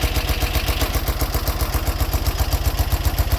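A 1980 BMW R100RT motorcycle engine idles close by, throbbing in an even, steady rhythm of low pulses without any revving.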